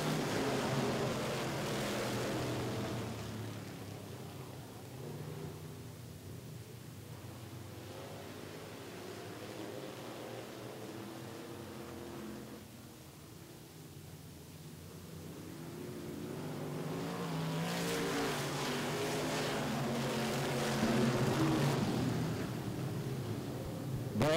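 Super stock race cars roar around Richmond Raceway, a broad, fairly distant engine drone that fades and swells as the pack comes through, with a sharper burst of noise near the end.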